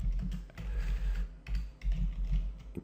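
Keys tapped on a computer keyboard while entering code at a desk, a quick irregular run of light clicks with brief pauses, fairly close and moderately quiet over a low background hum.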